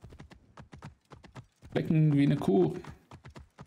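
Horse hooves clip-clop at a steady, close trot in Assassin's Creed Origins. People talk over the hoofbeats, and a loud, drawn-out vocal sound rises in the middle.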